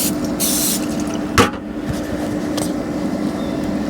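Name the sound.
cooking spray sprayed on waffle maker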